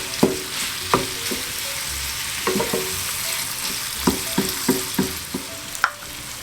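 Jamaican stuffed dumplings fry in a pan with a steady sizzle, broken by sharp clinks and taps of a utensil against the pan at irregular intervals, close by and without talk.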